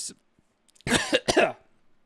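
A brief burst of coughing, two or three quick harsh coughs up close, with a short faint sound just before and quiet afterward.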